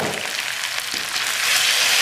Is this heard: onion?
yes